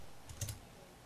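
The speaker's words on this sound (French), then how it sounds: "pour sauter d'onglet en onglet, on appuie sur le raccourci clavier CTRL TAB" Keys are pressed on a computer keyboard to switch tabs, a quick pair of soft clicks close to the microphone in an otherwise quiet room.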